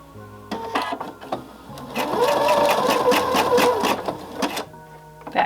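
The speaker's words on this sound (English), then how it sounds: "I'm going to secure the front or the start and the end of the stitching." A home sewing machine runs a zigzag stitch, starting and stopping as it backs up to secure the start of the seam, then sewing forward in a steady, loud, rapid mechanical chatter with clicks between bursts.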